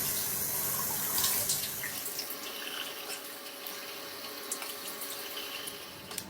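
Tap water runs steadily into a sink during face and sink washing, a close, even splashing stream with scattered splashes and light knocks.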